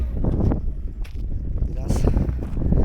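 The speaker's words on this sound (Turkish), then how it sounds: "Ama öyle bir rüzgar esiyor ki beynim uyuştu şu anda." Strong wind on a mountain near Kayseri, Turkey buffets the microphone in loud, rumbling gusts, with a person speaking now and then beneath the roar.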